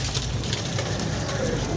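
Pigeons kept by a fancier cooing close by, soft throaty coos over a dense, rain-like rustling background, continuous and fairly loud, with no voices.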